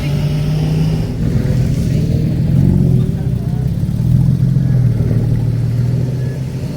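A 2018 Ford Mustang on air suspension drives hard around a race track, its mid-pitched engine droning and rising steadily close by, with people talking over it.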